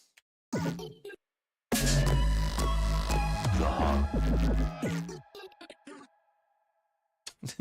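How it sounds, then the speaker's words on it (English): An electronic blip from a REAPER SD3 drum machine demo follows a busy run of drum hits: a quiet, sonar-like tone rings out and fades at the end, with a few stray clicks. "Dumb sound effect at the end."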